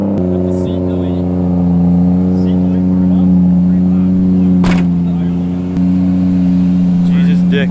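Car doing a burnout on a burnout pad, with a steady loud engine drone at high revs held throughout, close and harsh, with people talking over it.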